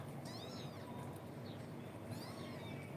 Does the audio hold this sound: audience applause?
no